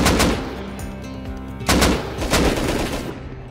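Gunfire in the survival game Rust: a close, loud burst of shots at the start, then a second heavy volley after a short lull, with sustained automatic-sounding firing through the rest.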